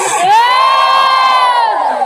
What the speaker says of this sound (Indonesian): Sorakin rame-rame.